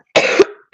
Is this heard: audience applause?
no